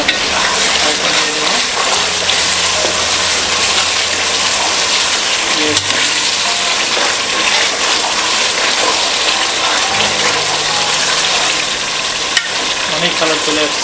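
Meat for pilau fries in a pot while being stirred, making a loud, steady sizzle with scraping and occasional low hums and clicks throughout.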